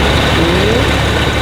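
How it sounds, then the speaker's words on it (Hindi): A private plane's 1300 cc engine starts and settles into a loud, steady, rumbling drone with a faint rising whine, close by and constant throughout, with no talk over it. "ये एक इंजन स्टार्ट हो गया।"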